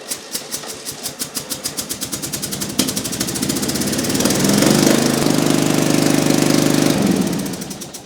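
A lawn mower engine sputters with rhythmic pulses, then catches and roars steadily at a loud, even drone before easing off near the end.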